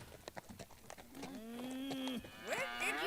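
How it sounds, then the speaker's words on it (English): Several cattle moo loudly close by, a bull among them, with long sustained lowing calls overlapping one another and rising into a rougher bellow at the end, after a few scattered knocks and thuds. "Where did you get cows? That's a bull!"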